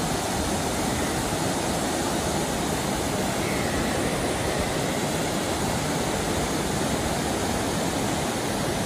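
Water flows outdoors in a steady, loud, unbroken rush of broadband noise that stays even for the whole stretch, with no voices over it.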